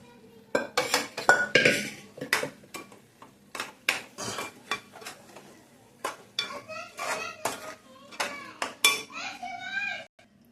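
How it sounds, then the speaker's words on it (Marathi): Cashews and soybean biryani being stirred in a pot, with repeated metallic scrapes and clinks of a spoon against the pot rim, close up, while someone talks throughout. "आणि ते काजू दाणे आणि बिर्याणी टाकायचे आणि हलवून घ्यायचं"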